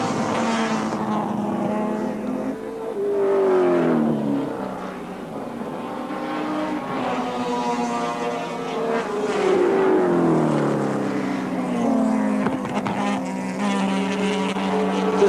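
Group C touring cars, including a Mazda RX-7 and V8s, race down the main straight at Wanneroo Raceway in 1984, engines roaring loud and close with rising and falling revs as cars pass.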